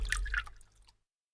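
A water drip sound effect from an RPG Maker video game: a brief cluster of bright, wet droplet plinks that fades away within about a second, with no talking.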